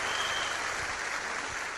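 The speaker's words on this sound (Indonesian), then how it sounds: "Tepuk tangan buat Unicorn seperti tim kita." Audience applause for the Unicorn team at a gathering, a steady, somewhat muffled wash of clapping from a crowd, continuous and moderately loud.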